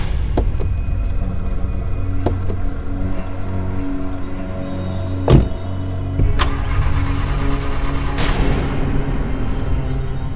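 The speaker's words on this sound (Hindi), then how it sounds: "गाड़ी स्टार्ट क्यों नहीं हो रही?" A car engine with a suspected dead battery cranks repeatedly without catching, a steady grinding churn under a faint background hum, broken by a sharp clunk midway and a brief harsher burst of cranking near the end.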